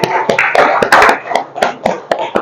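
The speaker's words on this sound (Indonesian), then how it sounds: "Yuk, tepuk tangan dulu untuk Mbak Zahra." Classroom clapping for a student, a handful of irregular claps and taps ringing close and fairly loud over a brief stretch.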